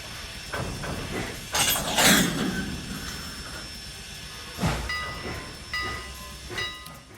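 Trainz 2019 simulated train coupling onto a caboose in a 1930s rail setting, with rumbling rail noise, hissing air bursts and clanks of couplers, fairly loud and close with no talk.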